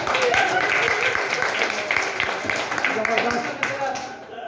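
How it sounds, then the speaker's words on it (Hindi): Dense crowd clapping fills a seminar hall in Maharajganj, a steady wash of applause that carries on evenly from start to finish with no voices standing out. "इसके लिए जोरदार तालियां"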